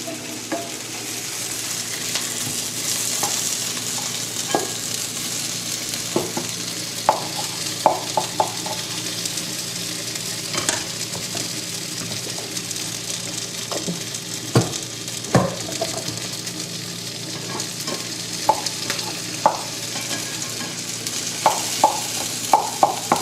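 Scrambled eggs cook slowly over a small, not very hot ring, giving a continuous gentle sizzle with frequent spatula scrapes and taps against the pan, close by and without talk.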